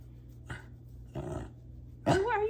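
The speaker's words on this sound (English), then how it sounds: "I don't know what he's barking at" A dog barks indoors in a few separate bursts, a short sharp one, a longer rougher one, then a loud final bark with a rising whine-like tail, over a steady low background hum.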